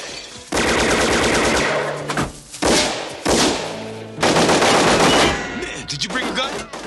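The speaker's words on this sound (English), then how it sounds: "I can't believe you guys were parked in the middle of a shootout and you didn't bring a gun." Gunfire in an action-movie shootout, with loud close bursts of rapid automatic shots broken by brief pauses and some heavier thuds between volleys.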